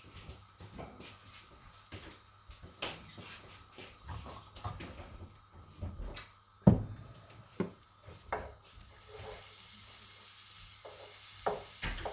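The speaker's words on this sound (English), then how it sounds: "Yeah, I'm just melting the butter." Butter melting over gentle heat in a pan for a bechamel sauce, a soft steady sizzle with scattered stirring scrapes and knocks of utensils, fairly quiet and close with no talk.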